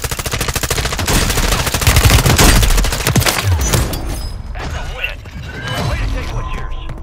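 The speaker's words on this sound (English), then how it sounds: "Yep, I'm getting shot at." Rapid automatic gunfire in a Call of Duty match, dense bursts of shots close and loud for several seconds, then thinning to scattered distant fire, with players talking over it.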